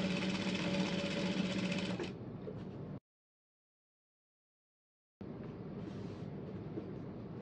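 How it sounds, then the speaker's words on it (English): Sewing machine stitching a dart in the fabric of a bustier dress, running in steady rapid bursts up close: a loud stretch, a full stop into silence for about two seconds, then the stitching resumes at a similar pace with no voices. "So the first thing is to sew in your dart. So mark the position of the dart and sew accordingly."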